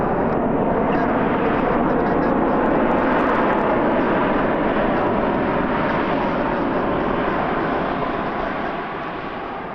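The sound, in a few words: airplane thrust reversers roaring on landing at Kelowna airport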